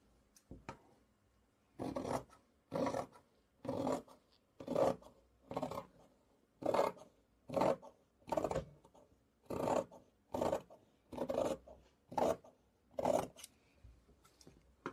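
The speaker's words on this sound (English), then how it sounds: "I am very slowly and carefully cutting my fabric in this way." Scissors slowly cutting fabric for a sun-shaped decorative cushion, heard as about twelve evenly spaced crunching snips, each lasting roughly a second, close and clear against a quiet background.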